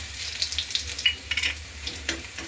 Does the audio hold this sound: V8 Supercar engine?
no